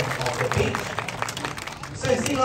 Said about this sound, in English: Nice big round of applause to bring them back up to the foot of the beach.